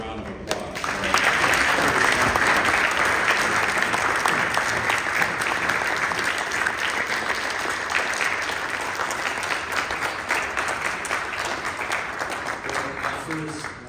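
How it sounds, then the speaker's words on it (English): Audience applause at a political forum in Washington, DC, welcoming a guest: a dense, loud, sustained wash of many hands clapping that swells in the first second and then holds steady to the end, easing only slightly. "One more round of applause."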